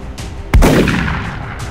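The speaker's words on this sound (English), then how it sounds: "Shot failed to connect." A single loud gunshot cracks in the XCOM video game and leaves a booming tail that fades slowly, with no talk over it.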